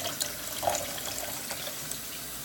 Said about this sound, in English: I'm going to pour a little more water in here.